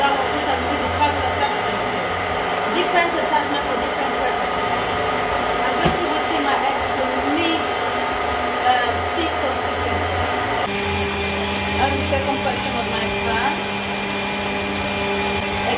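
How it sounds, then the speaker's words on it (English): An electric stand mixer fitted with a whisk attachment whips egg whites for cake batter with a constant high motor whir and hum, and its pitch shifts partway through as a person talks over it. "I am mixing my egg whites in this mixer. I'm using the whisk attachment"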